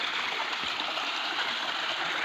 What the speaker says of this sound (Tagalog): Taas ng daloy ng tubig.